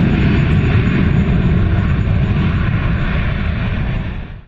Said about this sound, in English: Bomber.